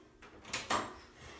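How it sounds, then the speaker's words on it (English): Hair salon door pushed shut and locked, two quick close knocks and a latch click in quick succession, moderately quiet. "Lock the door."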